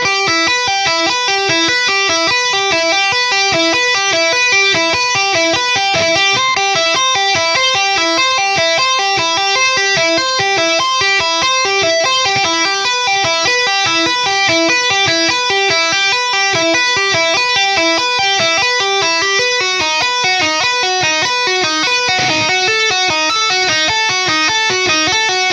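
An electric guitar runs a fast, continuous tapping exercise in a descending pattern with pull-offs, its notes rippling in an even, rapid cascade, loud and close throughout with no speech.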